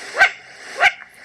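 Two sharp, hoarse alarm barks from a mountain bird, evenly spaced about half a second apart, close and clear with no talk over them.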